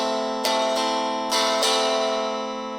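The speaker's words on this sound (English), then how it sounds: "Or you could do what's called a syncopated strumming pattern." Syncopated strumming pattern on an acoustic guitar holding a sustained chord, with four sharp strums in an uneven rhythm, close and clear with no talk.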